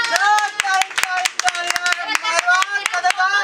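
Energetic clapping from an audience cheering contestants in a Bengali find-the-object party game, rapid sharp claps close by mixed with loud voices talking and calling out throughout.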